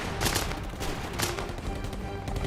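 Sten submachine gun firing in a Second World War setting, a rapid run of sharp shots ringing out over a steady crackling din of battle noise, loud and dense throughout with no voices.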